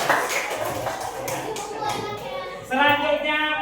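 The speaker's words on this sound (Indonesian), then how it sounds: "Luar biasa, tepuk tangan dong." A primary school class claps together after a group presentation, a short burst of many small hands with a teacher speaking over it.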